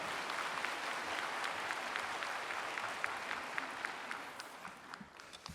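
A church congregation applauds as a pastor comes to the pulpit during a Sunday worship service, a dense, steady clapping that fills the room and tapers slightly toward the end.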